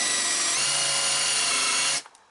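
Drill driver with a countersink bit cutting into wood at the top of a pilot hole, a loud, close, steady high motor whine lasting about two seconds before stopping abruptly.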